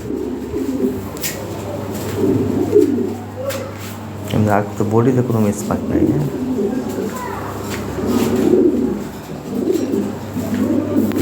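Large Lahore pigeons coo softly in short bursts near someone talking steadily about the birds, with faint rustling around them.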